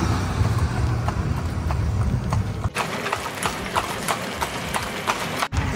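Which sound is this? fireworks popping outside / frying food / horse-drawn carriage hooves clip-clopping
horse-drawn carriage hooves clip-clopping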